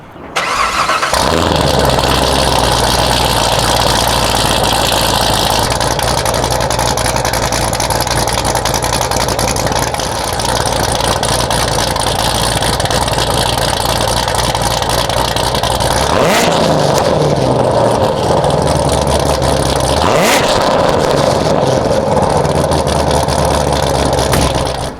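A built Chevrolet C7 Corvette Z06 V8 fires up and holds a loud, deep, close idle, then is revved sharply twice near the end, with no talking.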